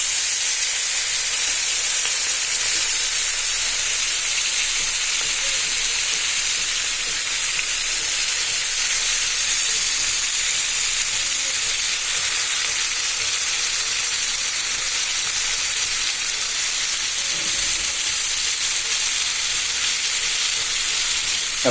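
Koi fish cooks in a pan under a mixture of onion, garlic, green chili, coriander leaves and tomato, a loud, close, continuous sizzle and hiss that holds steady the whole time.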